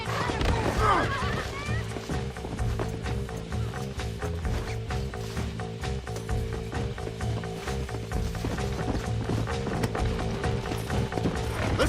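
Horse in the Red Dead Redemption video game neighing and whinnying near the start, followed by continuous clip-clop galloping hoofbeats with mechanical rattles, close and moderately loud.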